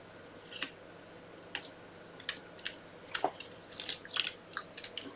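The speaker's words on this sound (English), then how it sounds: "just snip that piece off" Scissors snip through card paper in a series of crisp, separate cuts, irregularly spaced and growing quicker toward the end, close by in a quiet room.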